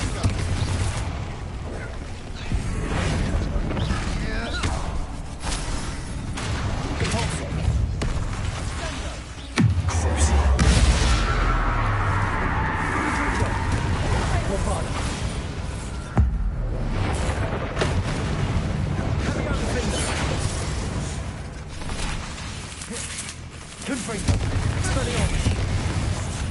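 Repeated booming spell blasts from Confringo and Bombarda in the game Hogwarts Legacy, heavy low explosions landing one after another over dense combat noise, loud and close throughout.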